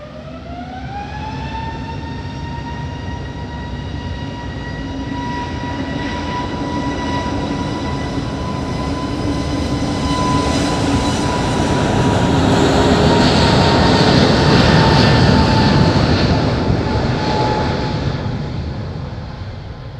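An Iberia jet airliner takes off from runway 05 at Madeira Island's airport, its engine roar building from a steady whine to a loud, broad rush that peaks and then begins to ease off.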